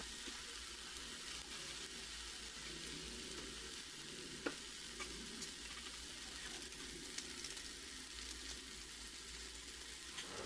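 Turmeric, salt and chili powder fry in hot oil in a pan while being stirred, giving a steady, fairly quiet sizzle throughout with one brief sharp clink midway.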